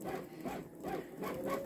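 A Babylock Solaris Vision embroidery machine stitches an eagle design, giving off a quiet, even, rhythmic whirring with repeating mechanical pulses.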